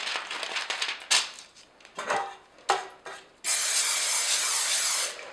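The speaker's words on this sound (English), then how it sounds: "Give them a good spray of a non-stick cooking spray." Non-stick cooking spray hisses from an aerosol can onto cake pans, with a sustained close spray burst after some rubbing and handling noises.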